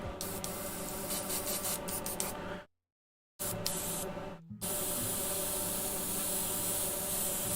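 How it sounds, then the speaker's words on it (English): Airbrush spraying fair blush flesh-tone paint straight from the bottle, unreduced: a steady close hiss that cuts out twice briefly, then resumes and holds evenly to the end. "I've just gone straight into the airbrush with the fair blush."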